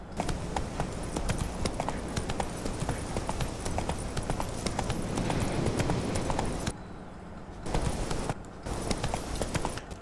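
Roach, the horse in The Witcher 3, gallops in a steady, rapid clip-clop of hooves, loud and close, running almost without a break and dropping out briefly near the end.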